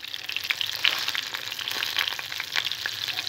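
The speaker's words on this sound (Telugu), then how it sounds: "ధనియాలు వేసి ఫ్రై చేసుకోవాలి." Dry red chillies, coriander seeds, tomato and onion frying in a pan for a gongura tomato chutney, with a bright, crackling sizzle that runs steadily and has small popping bursts throughout.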